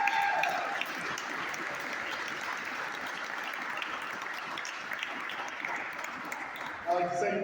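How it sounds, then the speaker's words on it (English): Audience applause at a democratic socialist organizing event, steady clapping filling the room throughout, with a brief louder swell near the end. "So give yourselves a round of applause."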